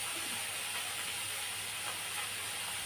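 Steady, close sizzling hiss of oil heating in a pan with turmeric while chicken biryani is cooked at home, a continuous broadband fizz with no voices.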